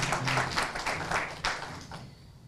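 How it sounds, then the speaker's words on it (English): Applause from an audience at a Women's History celebration awards ceremony, a burst of clapping with a few louder claps that quickly fades away. "So let's clap it up for Valerie Swan."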